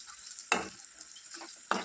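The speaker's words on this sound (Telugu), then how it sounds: "ఇప్పుడు మనము స్టఫ్ చేసుకున్నటువంటి కాకరకాయలని తాలింపులో వేసుకొని మంట తగ్గించి వేయించుకోవాలి." Stuffed bitter gourds sizzle steadily in hot tempering oil over a low flame, with two sharp stirring clatters breaking through the constant frying hiss.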